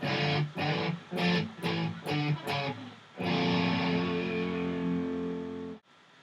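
A distorted electric guitar plays a choppy breakdown: several short chugging bursts, then one long sustained ringing chord that cuts off abruptly.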